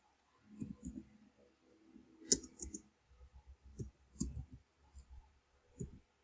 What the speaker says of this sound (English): Type event or event viewer on the search programs.